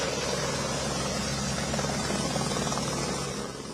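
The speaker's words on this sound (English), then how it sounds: "People are being picked up by helicopter because many of the roads are washed out." Rescue helicopter evacuating people stranded by flash flooding in northern India, a continuous loud rotor roar and engine drone throughout with no pauses.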